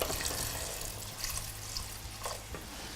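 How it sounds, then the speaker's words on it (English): Cold water pours into a pot over broccoli and cauliflower for soup, a steady, close rushing splash that fills the whole stretch with a few sharper splashes. "I'm going to cover those with cold water to turn the heat up so we can bring that to the boil."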